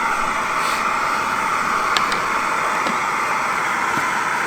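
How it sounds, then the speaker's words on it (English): A Fire Maple camping stove under an Island steamer kit gives a steady, broad roaring hiss that stays constant and fairly loud throughout, with a few faint clicks over it. "I'm sorry about the noise of the stove."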